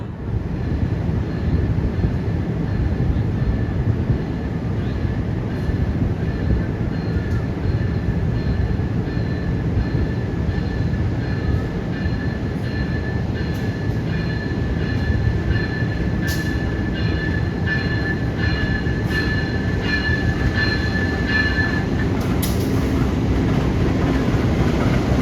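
The Sawung Galih passenger train runs along the track, a loud continuous rumble of wheels and carriages with a thin sustained squeal and occasional clanks, heard from on board or close by.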